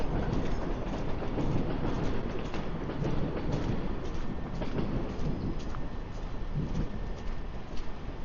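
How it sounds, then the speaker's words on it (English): A southbound Toronto subway train rolls past the Davisville TTC yard with a steady, broad rumble from a moderate distance that holds for the whole stretch, with no voices. "there goes a southbound train"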